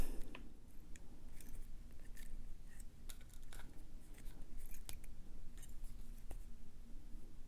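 Small cutters snip the wire tail of a beaded turquoise necklace, giving a few quiet, sharp clicks spread across a faint room hush.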